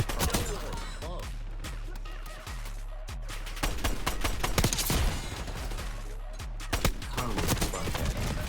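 TR2 rifle bursts from Black Ops 6 Hardpoint play, rapid cracking shots in repeated volleys across the span with a steady background hum, close and loud.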